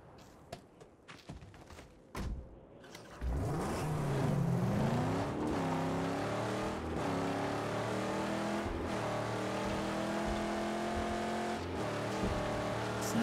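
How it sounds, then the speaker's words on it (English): Engine of a car in the Mad Max video game revving up loudly after a few brief knocks, then holding a steady, rising drone with shifting pitch for several seconds, close and continuous. "Sounds a bit different than another car."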